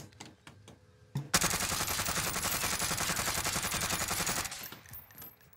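Krig 6 assault rifle firing on full auto in Warzone, one sustained rapid burst of loud, even gunshots lasting about three seconds, preceded by a few light clicks and ending in a fading echo.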